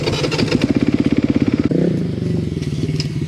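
A dirt bike engine revs hard and loud at an off-road trail, with rapid pulsing firing strokes and a brief dip and recovery in pitch as it is pushed toward high RPM.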